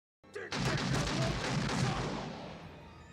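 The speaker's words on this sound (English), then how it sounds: "Fire the gun while you're talking." A gunshot from the 1988 comedy film The Naked Gun cracks loudly once, followed by a rumbling boom that slowly fades.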